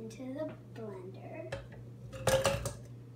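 Frozen strawberries clatter into a blender jar in a burst of hard, rattling clunks after a spell of quiet speech, with a steady low hum underneath.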